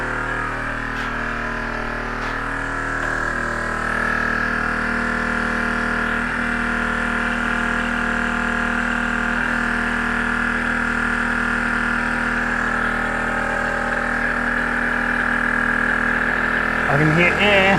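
A faulty onboard air compressor in a Nissan GQ Patrol, used for the front locker, runs continuously as a loud, steady mechanical drone with an even buzzing hum.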